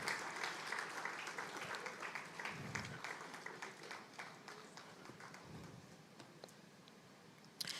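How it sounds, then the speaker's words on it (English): Applause from a conference audience sounds quiet and somewhat distant, a thin, continuous patter of many hands with scattered sharper claps that slowly thins out. "Another round of applause, please."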